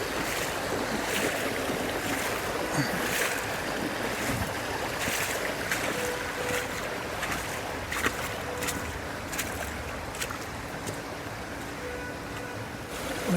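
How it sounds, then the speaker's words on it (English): Fast-flowing river water rushing steadily around a wader on a fly-fishing outing, a dense continuous broadband wash with occasional splashes, loud and close throughout with no talking. "let's skip through this very fast water"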